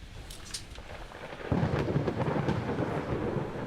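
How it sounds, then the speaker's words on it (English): A thunderstorm with rain in the naval strategy game Ultimate Admiral Dreadnoughts: steady hiss of rainfall, then a sudden loud rumble of thunder that swells and keeps rolling to the end, without speech. "How dare you give me a storm?"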